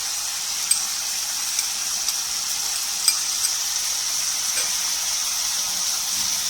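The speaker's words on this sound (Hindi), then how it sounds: "अब अदरक लहसुन के साथ इसकी भुनाई करेंगे।" Steady sizzling of chicken frying with ginger garlic paste in a hot pan, a constant bright hiss with a few small pops and stirring clicks.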